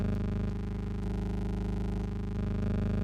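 A dense, gritty synthesizer tone held steadily, thick with buzzy harmonics and pulsing slightly throughout.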